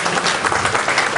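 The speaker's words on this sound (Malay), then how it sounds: "kita berikan tepukan paling gemuruh" A seated audience at a Karangkraf media forum panel breaks into loud, sustained applause, a dense unbroken patter of many hands clapping at once.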